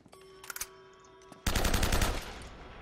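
Gunfire in Uncharted, a loud sustained automatic burst of about half a second that begins abruptly after a quieter stretch with a few faint clicks and a tone, then trailing rumble.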